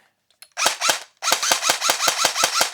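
An airsoft MPX toy gun dry-fired empty, two quick mechanical cracks followed by a rapid burst of about ten snappy clacks in even automatic rhythm, loud and close with nothing else heard.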